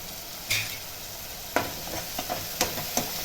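Green chillies dropped into hot oil make a faint sizzle, broken by a few sharp clinks and stirring knocks spaced through the clip.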